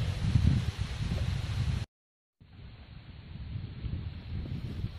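Strong wind roars and buffets the microphone on a hillside, loud and continuous, cutting out briefly before resuming a little softer, with no talking.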